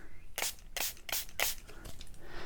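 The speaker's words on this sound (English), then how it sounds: "So I have to spray it because it's drying way too quickly." Several short bursts from a water spray bottle misted onto drying paint, about six hissy squirts in an uneven rhythm, close and fairly soft.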